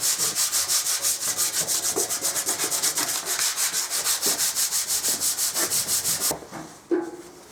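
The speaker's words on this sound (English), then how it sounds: "Right, so let's get sanding." A petrol tank being sanded by hand with steady, rapid back-and-forth strokes, loud and close, keeping an even rhythm for about six seconds before stopping, followed by a brief clunk and quieter handling noise.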